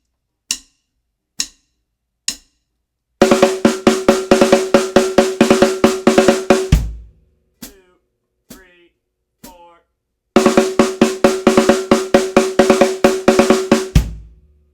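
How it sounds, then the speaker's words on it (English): Snare drum played alone in a 5-5-3-3 phrase, two bursts of crisp rapid strokes separated by a pause, preceded by a few isolated sharp clicks, loud and close. "If I play it on just the snare drum, sounds like this."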